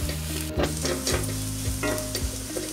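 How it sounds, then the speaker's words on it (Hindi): Spices and coriander for dal makhani roasting over a low flame in a pan, with steady close sizzling and several distinct scraping stirs of a spoon against the pan. "मसाले को भुनेंगे"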